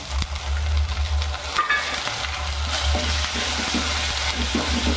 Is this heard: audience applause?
no